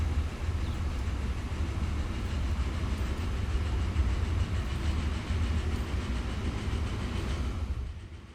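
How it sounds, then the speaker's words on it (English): A train rolls along the track in Transport Fever 2, a steady loud rumble with faint clickety-clack of the wagons that holds for several seconds and then begins to fade at the end. "Pretty cool looking train."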